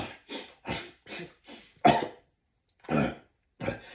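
Repeated coughing and throat clearing after eating a meal, a series of short harsh bursts in quick succession, a pause, then two more coughs, close and fairly loud with no talking.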